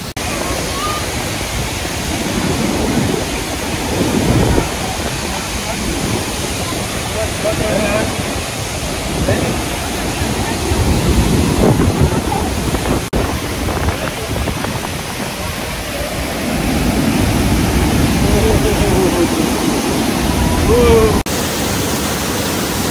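Rheinfall, a powerful waterfall in Switzerland, roars in a loud, continuous broadband rush that swells and eases slightly as the listening position shifts, with occasional voices faintly underneath.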